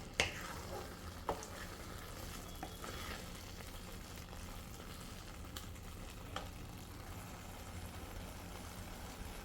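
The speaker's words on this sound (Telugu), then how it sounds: "సో అంటే ఇది బాగా ఫ్రై అయిపోయింది అని." Carrot halwa frying and being stirred in a pan: a steady soft sizzle runs throughout, with occasional scrape and clink transients from the stirring utensil, close and moderate in level, no talking.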